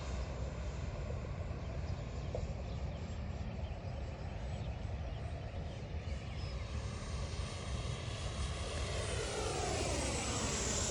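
A Freewing 80mm F9F-8 Cougar RC jet flies in wet weather, and its electric ducted-fan whine holds steady and fairly loud for the whole stretch, with a broad rushing roar that rises slightly in pitch toward the end.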